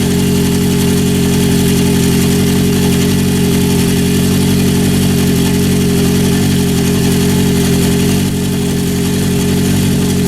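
A 1972 Honda CB750 Four motorcycle engine idles steadily and loudly up close, a continuous even rumble with no talking and only a slight dip near the end.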